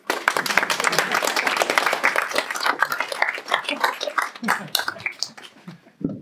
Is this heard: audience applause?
yes